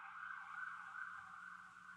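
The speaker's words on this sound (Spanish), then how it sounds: "ya pasó la ambulancia" An ambulance siren passing outside, heard as a steady, faint high wail that holds for a couple of seconds with no other sound.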